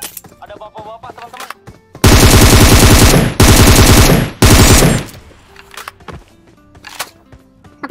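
Automatic gunfire in PUBG Mobile comes as three loud, long sustained bursts of rapid shots with short gaps between them, framed by quieter clicks and game sounds.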